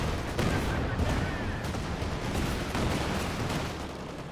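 A Calliope rocket barrage in Company of Heroes 2 pounds continuously, a dense roar of overlapping rocket blasts and explosions at steady loudness, with a commentator speaking over it.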